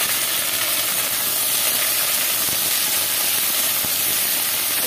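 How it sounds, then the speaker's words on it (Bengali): Okra and potatoes frying in hot oil with dried red chillies and nigella seeds, a steady loud hiss and crackle filling the whole stretch without a break. "এবার আমি ভেন্ডি আর আলুটা দিয়ে দিচ্ছি।"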